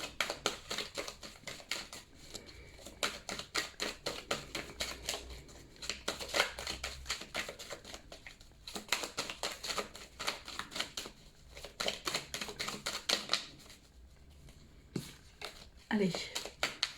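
Tarot cards are shuffled by hand in repeated quick riffling bursts and soft slaps, close and crisp, while someone talks quietly over parts of it.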